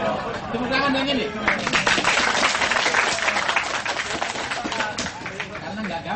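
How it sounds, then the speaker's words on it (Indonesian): Audience applause and clapping at a Kenduri Cinta gathering, a dense, steady wash of hands lasting several seconds with crowd chatter and cheering mixed in. "Tepuk tangan yang ini."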